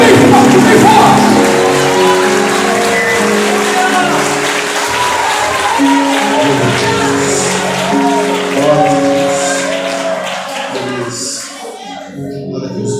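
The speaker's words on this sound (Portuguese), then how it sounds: "Dá uma salva de palmas para Jesus." Loud congregational applause at a Brazilian church choir congress celebrating 25 years of worship, dense clapping with crowd cheers and singing voices mixed in, sustained for the whole stretch before fading slightly near the end.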